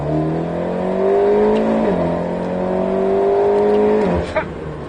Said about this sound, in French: Filet de gaz, donc on le fait au bruit du moteur